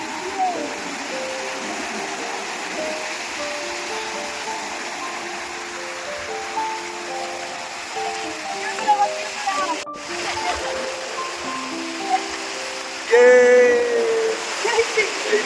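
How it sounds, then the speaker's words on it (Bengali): Small sea waves break on the shore at Mousuni Island in a steady, soft wash, with a louder splash near the end. "ছোট ছোট ছোট ছোট ঢেউ আসছে, সুন্দর সুন্দর ঢেউ আসছে"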